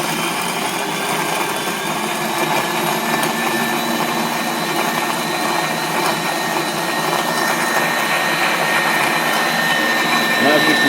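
A KitchenAid flour mill attachment grinds grain through its burrs, giving a loud, steady, dense mechanical whine and rasp that runs continuously and close throughout.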